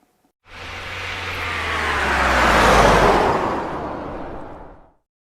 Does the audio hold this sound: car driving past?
yes